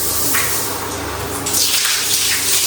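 Water sprays hard from a hand shower in a new home bathroom, a loud, steady hiss that surges brighter halfway through and continues without any talking.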